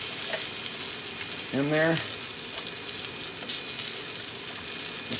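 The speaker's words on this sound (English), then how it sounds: "I'm going to add 2 cups of this beef stock with the base" Beef stock is poured into a hot pan of browned beef for a red wine braise, setting off a loud burst of bubbling sizzle that settles into steady frying, with a brief voice speaking partway through.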